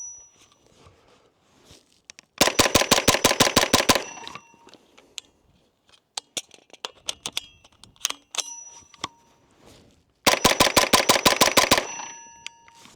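Sterling Arms R9 Mk1 9mm carbine fired in two rapid strings of about a dozen sharp, evenly spaced shots each, loud and close, with scattered clicks and handling noises between the bursts.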